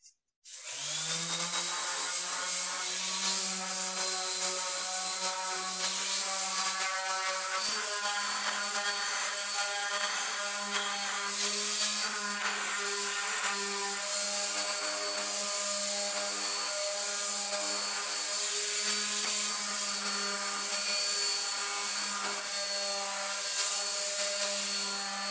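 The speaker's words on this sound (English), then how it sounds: "we're going to do is sand all the pieces for the base of this stool" A power sander works steadily over wooden pieces for a stool base, a loud continuous high whine with a dense harmonic buzz that runs unbroken from start to finish, with no talking.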